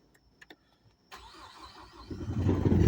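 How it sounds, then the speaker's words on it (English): A Ford Focus ST engine with 127,000 miles and a loud ticking fault. It is quiet at first, then cranks and catches about a second in and settles into a growing, close, busy idle. "But that's the ticking noise that I'm getting."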